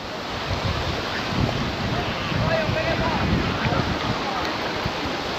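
Sea waves washing onto Digha beach, with water flooding in from both sides: a continuous loud surf roar blended with heavy wind buffeting the microphone, with faint voices in the background.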